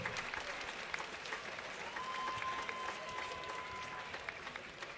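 Steady applause from a room audience after a girls' youth boxing skills bout, a continuous even patter of clapping held at moderate distance, with a faint thin tone drifting through the middle and no clear voices.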